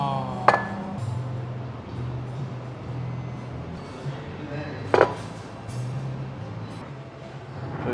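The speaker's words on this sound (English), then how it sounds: "now he's going to mash the lamb fat, and then mix it with the meat juice" Lamb fat is mashed and mixed with meat juice in a bowl at an Iranian street food spot, giving two sharp metallic clinks over a steady low hum and background chatter.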